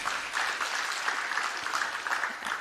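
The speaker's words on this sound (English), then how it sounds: "A round of applause, please." Audience applause at the launch of the 22nd edition of the Malawi Economic Monitor, a steady, dense round of clapping from a room full of people that carries on without a break.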